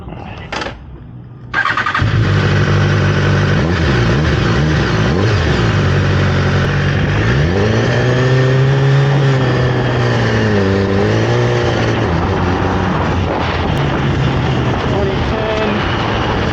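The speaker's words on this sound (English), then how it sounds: "BMW S1000RR first gen." A 2010 first-generation BMW S1000RR sportbike with 1,800 miles cranks and fires after a brief quiet start, then idles loudly and up close before rising into several revving swells and settling back down.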